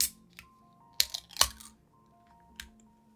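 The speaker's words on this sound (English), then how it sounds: "I'm gonna go ahead and crack open my poppy, give y'all some ASMR" Close, crisp cracks and crunches from a can of Poppi soda being opened, a few sharp bursts with short pauses between them over a quiet background.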